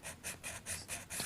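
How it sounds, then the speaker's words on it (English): A file rasps along the sidewalls of acrylic stiletto nails in about five quiet back-and-forth strokes, steady and close, with no talking. "I like to start with, before I do anything, is filing the sidewalls."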